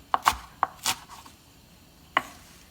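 Collard greens being cut with a knife on a board: four quick sharp chops in the first second, a pause, then one more crisp chop, close and clear with no talking.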